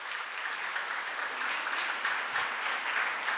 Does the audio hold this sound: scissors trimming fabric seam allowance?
no